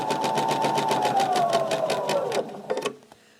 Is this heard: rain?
no